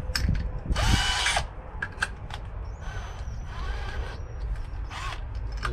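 A power drill bores a pilot hole into a broken guitar, with a loud burst of whining and grinding followed by quieter intermittent drill runs and mechanical creaks up close.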